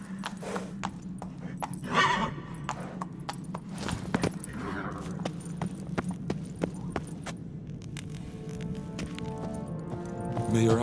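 Horse in The Witcher 3 video game: rapid clip-clop hoofbeats with a whinny, steady clattering throughout against a low hum, and a voice speaking over it.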